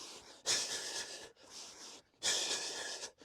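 Deep exercise breaths drawn in through the nose and pushed out through the mouth, two long, loud airy rushes with a quieter breath between, close and with no talking.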